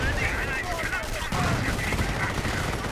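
Rapid machine gun fire and grenade blasts from a World War II strategy game battle with Volksgrenadiers, a dense continuous burst of overlapping shots and explosions lasting a few seconds with faint talk underneath.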